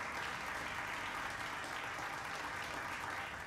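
A room of spectators at a performance claps steadily and evenly, a dense continuous wash of hands with no pauses, moderately loud and with no voices clearly rising above it.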